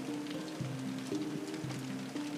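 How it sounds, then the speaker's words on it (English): Steady rain falls outside in Cullowhee, North Carolina, a constant hiss of drops under a repeating low tonal hum from something nearby. "I gotta wait for the rain to die out a little bit if it decides to."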